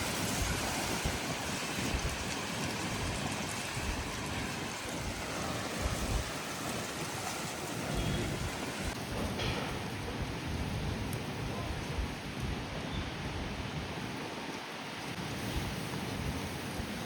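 Heavy rain pours steadily during a thunderstorm, a dense continuous wash of close rainfall with no clear thunder claps, no talk.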